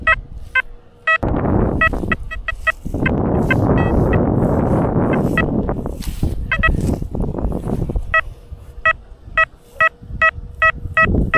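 XP Deus metal detector sweeping, repeated short high beeping target tones in bursts, with a harsh scraping rustle of the coil over ground through the middle, no talk.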